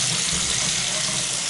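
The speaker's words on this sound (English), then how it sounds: "There's the hot water, it's draining beautifully." Hot water runs steadily from a shower or tap and drains away in a bathroom of an Elmwood home, a constant close rushing hiss with no talking.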